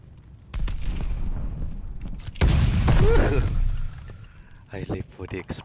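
Explosions and gunfire boom through a Call of Duty: Vanguard match, a rolling barrage of loud blasts with a heavy burst near the middle, while a voice talks over the chaos.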